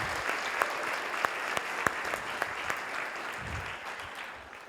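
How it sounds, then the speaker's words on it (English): Audience applause for the organizers at the iOSKonf25 tech conference, a steady hall-filling wash of clapping with a few sharper claps standing out near the front. "I just want to have an applause for the people who made this all happen."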